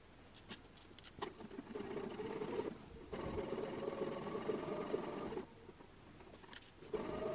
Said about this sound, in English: you're going to sew the yoke down and keep all of the bodice out of the way